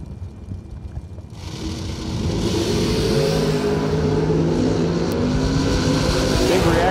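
A 1970 Chevelle SS launches at a drag strip, its engine noise building from about two seconds into a loud, sustained roar that carries to the end of the run, with a commentator's voice layered over it.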